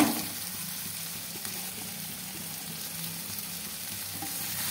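Coriander, cumin and turmeric frying in a pan for a chicken dish: a quiet, steady sizzle with light stirring that continues evenly throughout, with no talking.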